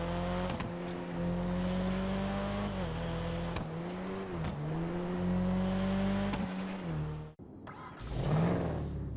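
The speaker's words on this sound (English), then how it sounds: "The rotary idle is just great and strange at the same time, but those backfires, you can hear it." The rotary engine of an Elegy Retro in GTA Online idles with a loud, steady, buzzing drone and small wavers in pitch, then cuts out briefly before a burst of revving; several sharp pops punctuate the hum.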